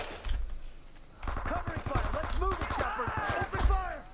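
Enemy gunfire in the Vietnam War video game Men of Valor, rapid bursts of shots crackling alongside in-game voices and a player talking.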